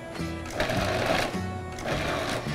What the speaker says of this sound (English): pulse the butter with the flour in the food processor first